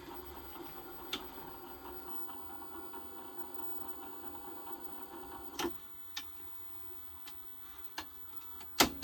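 A 1982 Panasonic NV 366 VHS deck runs its mechanism on play and pause: a low steady mechanical whir with scattered clicks and sharper clunks in the later half, close and fairly quiet.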